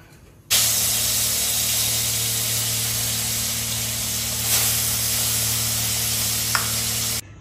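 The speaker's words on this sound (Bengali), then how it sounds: "তাহলে এবার মাছটা ভেজে নিই" Fish frying in a hot pan in a home kitchen gives a steady, loud sizzle that starts abruptly and holds evenly for about seven seconds, with a brief louder spit near the middle, no voices.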